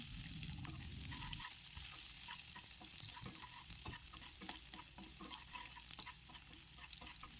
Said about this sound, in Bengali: ফোড়নটি হালকা বাদামি হয়ে এলে এতে কুঁচানো পেঁয়াজ দিতে হবে